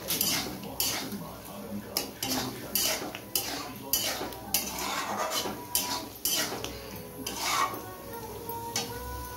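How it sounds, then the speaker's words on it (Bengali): A spoon scrapes and clinks rhythmically against a metal pot while stirring ghugni with a pinch of garam masala, repeated strokes close and clear, with no talking over the scraping. "এবার এর মধ্যে একটু সামান্য গরম মশলা দিয়ে দেবো"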